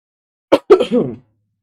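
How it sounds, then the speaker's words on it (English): A person coughs in two quick bursts, the second trailing into a rougher rasp, close and loud against an otherwise silent background. "I don't know why I'm coughing so much today."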